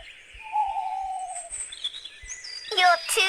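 A cartoonish owl call in a children's animal-finding game, a sliding hoot-like tone followed by brighter chirping bird calls, clear and close with soft game clicks beneath.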